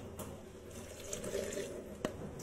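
Water poured from a tap into a pressure cooker holding tomatoes for Hyderabadi tamatar cut, a continuous splashing gush with a brief clink near the end.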